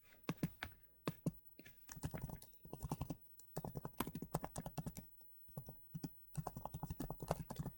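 Typing on a computer keyboard during an online search: close, crisp keystrokes arrive in quick irregular bursts separated by brief pauses, with no talking.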